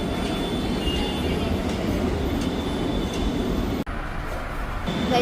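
A metro train at a station in Andheri, Mumbai, gives off a steady loud rumble and rolling hum that never lets up, with a brief dip partway through and no voices.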